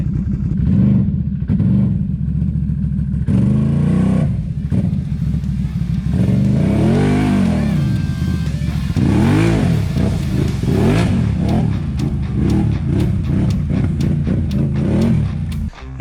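A Can-Am Renegade 1000 XMR ATV with aftermarket clutching crawling over rocks, its engine loud and close, revving repeatedly in surging bursts with clatter between throttle blips.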